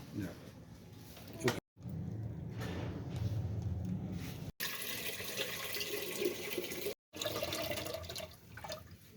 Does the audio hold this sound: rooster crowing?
no